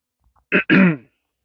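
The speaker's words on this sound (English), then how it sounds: "said Grandma, clearing her throat." A woman's single short throat clearing, two quick rough bursts in quiet surroundings, close and distinct.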